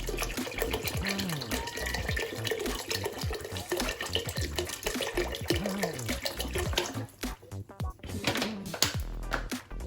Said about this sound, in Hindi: 2 लीटर मैंने इसमें डाल दिया पानी।